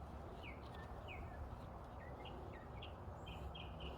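A bird singing in a garden, faint repeated short chirps scattered over a few seconds above a steady outdoor background hiss.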